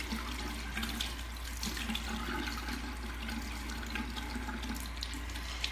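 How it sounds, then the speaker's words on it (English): Steady running water from a tap, a continuous broadband rush with no voices, holding an even level throughout as something is rinsed beneath it. "lukewarm water, and I rinse."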